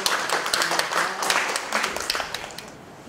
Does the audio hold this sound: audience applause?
yes